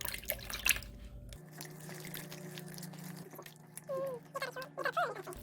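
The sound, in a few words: pouring cooled broth into kimchi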